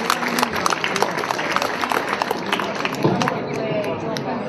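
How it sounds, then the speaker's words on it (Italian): Audience applause welcoming the Pink Ambassadors at an event in Panicale, dense sustained clapping from a crowd with voices and chatter mixed in throughout. "le Pink Ambassador, che accogliamo con un bellissimo applauso"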